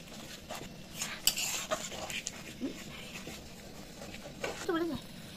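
Spices and water are stirred together in a cooking pan for chicken chap, with a utensil scraping and clinking against the metal in uneven strokes. A voice talks over it throughout, with a few brief squeaks near the end.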